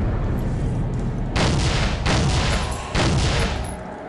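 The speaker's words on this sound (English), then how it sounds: "Throw grenade out" Grenade blasts in the shooter game Soldier of Fortune, with several loud booming explosions going off in quick succession over a rumbling background, and no talking.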